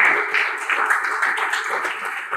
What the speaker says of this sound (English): Let's give God a big hand clap.